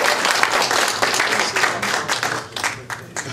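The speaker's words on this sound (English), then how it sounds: "Let's have another round of applause for this fabulous rhythm section." A loud, dense round of audience applause and clapping at a Moonlight on the Mountain jazz trio performance, honoring the rhythm section, continuing steadily throughout.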